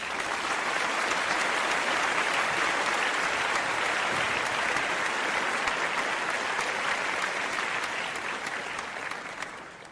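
Loud, sustained applause fills the space, a thick continuous burst of many hands clapping at once with no voices over it, thinning slightly in the final second.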